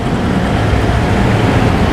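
Steady roadside traffic of motorbikes and cars passing close by, a continuous loud low rumble with no gaps and no talking.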